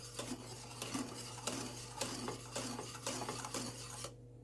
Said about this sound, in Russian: Но постоянно помешивайте, чтобы не пригорел.